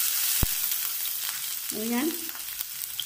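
Chopped ginger and garlic sizzle steadily in hot oil with mustard seeds for a lemon pickle, a continuous bright frying hiss with a brief pop near the start and a short voice murmuring midway.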